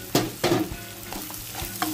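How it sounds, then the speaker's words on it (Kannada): Peas tipped into a pan of frying onions, curry leaves, ginger and spices, with a few clattering stirs and a soft sizzle between them; no one speaks. "ಈಗ ಬಟಾಣಿ ಹಾಕೊಳ್ಳೋಣ"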